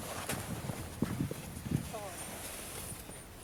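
A horse walks with a steady clip-clop, a few distinct hoof strikes landing close by over a noisy outdoor background, with people talking in the clip.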